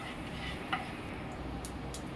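Cumin seeds crackle and sizzle in hot oil in a home kitchen pan, a soft steady frying hiss with a few faint pops, close and quiet, no talking.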